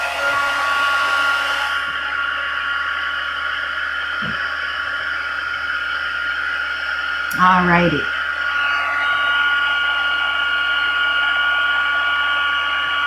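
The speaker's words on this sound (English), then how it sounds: "Now I need the heat tool." Heat embossing tool blowing hot air to melt embossing powder on a handmade card, a steady loud whir running throughout, with a brief voice and small handling knocks partway.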